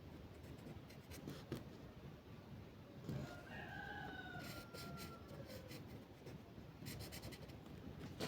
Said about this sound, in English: I hope you're enjoying the background noise of poultry.